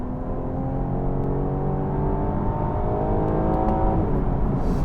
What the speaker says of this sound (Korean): 진짜 있는지도 모를 정도로 조용하게 움직이는 엔진이에요.